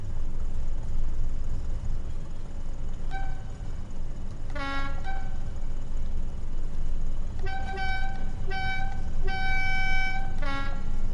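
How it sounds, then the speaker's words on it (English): A Class 86 locomotive passes on an intermodal service in Train Sim World 4, with repeated horn toots standing out over a steady rumbling rail and engine drone throughout. "Look at that 86 coming through on the intermodal service."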